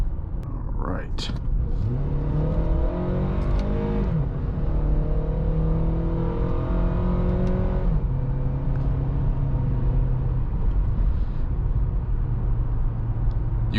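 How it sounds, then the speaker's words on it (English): A 2012 Acura TSX accelerates hard in sport mode on paddle shifters, its engine climbing through rising revs with a VTEC crossover and a shift roughly every four seconds, loud and close inside the cabin, with a voice talking over it. "You can hear that classic VTEC crossover."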